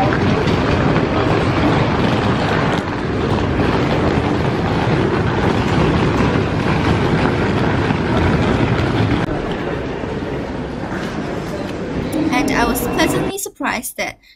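Steady rumbling train noise with rattling carriage sounds fills the cabin on a UK train arriving at Cambridge, loud and continuous, fading out abruptly at the end.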